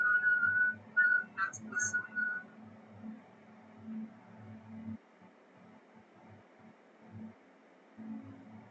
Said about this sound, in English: Now it's whistling.